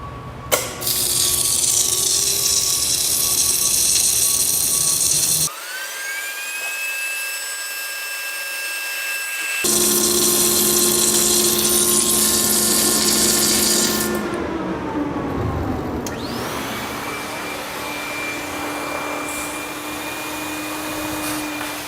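A tandem submerged arc welding machine runs at 650 amps and 30 volts with a travel speed of 20 inches per minute. It produces a loud, steady whining hum that drops out briefly and then resumes, with no talking.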